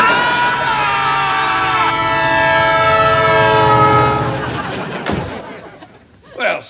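A train horn blares close by in long sustained blasts as a train rolls past near a crossing, with rumbling rail noise underneath before the sound drops away.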